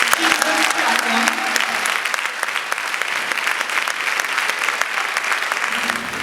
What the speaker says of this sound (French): je vais demander qu'on applaudisse pour nous, des femmes debout, des femmes qui veulent attendre